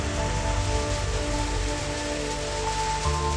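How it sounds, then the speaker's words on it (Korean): Heavy rain pours down steadily, drumming loudly on nearby surfaces without pause. "시원스레 쏟아지는 빗줄기를 차곡차곡 모아줍니다"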